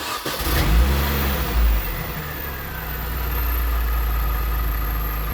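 A Mini R53 engine runs steadily just after new rod bearings were fitted, with a brief rev near the start and then a continuous even idle drone, close and fairly loud, without speech.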